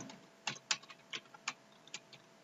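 HTML code is typed on a computer keyboard, with a sparse run of distinct, close key clicks spaced unevenly over a quiet background.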